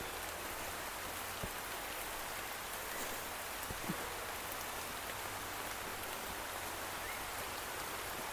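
Steady monsoon rain pours beside a stream, a dense, even hiss of drops that holds unchanged throughout, with no voices.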